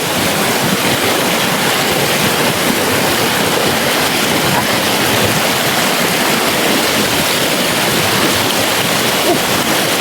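Loud, steady roar of a strong rushing river, broadband and continuous throughout with no pauses, close to the microphone.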